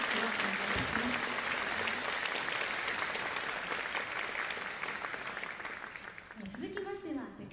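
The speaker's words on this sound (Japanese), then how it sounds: "もう一度あなたの拍手をお願いします。" Concert audience applauding after a guest soloist's performance with a swing big band, a broad steady clatter of clapping that fades slightly toward the end as a voice begins speaking.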